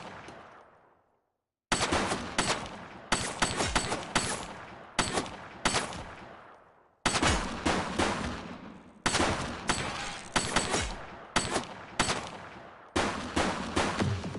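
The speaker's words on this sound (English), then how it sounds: "She's shooting!" Repeated bursts of rapid gunfire in the police video game The Precinct: loud, sharp volleys of shots that come in clusters separated by brief pauses, with a quiet stretch near the start and no speech.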